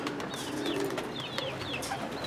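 High-flying pigeons kept on a rooftop with cages coo softly, several low, rolling coos repeating over steady outdoor background noise, close by and with no talking.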